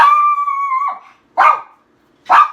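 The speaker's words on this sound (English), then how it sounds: "That was our dog." A pet dog in a home kitchen gives a drawn-out whining howl, then two short, loud barks with pauses between them, close by and with no talk over it.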